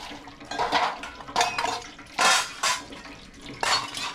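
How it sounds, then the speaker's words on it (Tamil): Dishes and pots being washed by hand, with metal utensils clattering and clinking in irregular bursts over faint running water, close and fairly loud with no talking. "இப்போ பாத்திரம் கழுவிக்கிட்டு இருக்கிறேன்"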